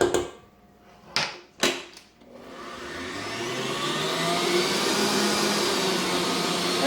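Electric mixer creaming margarine in a bowl for cherry or blueberry muffin batter, with a few sharp clicks and knocks before the motor spins up into a steady, rising whir.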